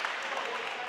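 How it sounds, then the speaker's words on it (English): A crowd cheers at a college national championship roundnet (Spikeball) match, a steady broadband roar of voices and scattered applause lasting throughout at moderate level. "the crowd, you can hear it"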